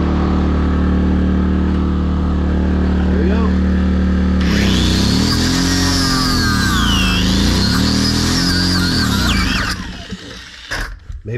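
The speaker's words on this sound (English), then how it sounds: "I'm gonna take my whiz wheel and cut it." A generator-powered whiz wheel cutting a bolt on a gold dredge, a loud, close, high-pitched grinding whine that rises and dips as the cut bogs, running over the generator's steady drone before cutting off.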